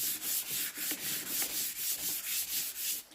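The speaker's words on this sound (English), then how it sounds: "I'm just going to scuff the surface of my furniture piece." Rhythmic back-and-forth scuff sanding of an abrasive pad on a wooden furniture piece's finished surface, about nine even strokes, close and steady.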